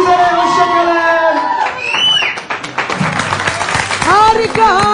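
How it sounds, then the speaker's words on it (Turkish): Crowd noise with cheering and scattered clapping from a studio audience at a percussion workshop with earthquake-affected students in Van, mixed under singing-like voices and shouting throughout. "Alkışlar, alkışlar."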